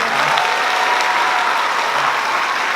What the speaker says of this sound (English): Everybody give another round of applause for the great Jazz Band.